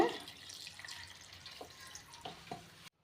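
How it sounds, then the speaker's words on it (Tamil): Water poured over moringa and curry leaves to wash them in a home kitchen: soft, faint trickling and splashing with a few light drips, steady and close, no voices. "இது தண்ணி ஊற்றி நல்லா கழுவிடுங்க"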